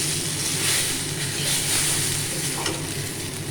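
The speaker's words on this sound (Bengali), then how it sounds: "পটল ভাজা হয়ে গেছে আমি তুলে নেবো" Pointed gourd frying in a wok, a steady, loud, hissing sizzle that runs unbroken from start to finish.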